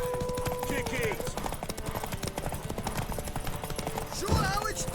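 Horse hooves clip-clop steadily in the Witcher 3 video game, a rapid continuous patter under game noise, with a brief whinny-like sweep near the end and speech-like sounds mixed in.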